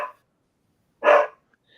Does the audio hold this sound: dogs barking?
yes